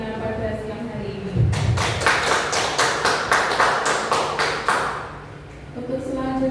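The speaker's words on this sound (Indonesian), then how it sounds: "beri tepuk tangan untuk Ibu Bella Tunggadewi" Seminar audience at a teacher orientation session in Surakarta applauding a speaker, a burst of steady hand clapping of about three seconds between stretches of amplified announcer talk.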